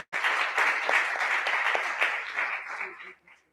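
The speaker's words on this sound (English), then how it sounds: "Can we give her another round of applause?" An audience at a talk event gives the keynote speaker a round of applause, sustained dense clapping that begins abruptly and continues evenly before tapering off near the end.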